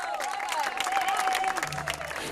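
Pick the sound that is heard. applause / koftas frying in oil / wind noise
applause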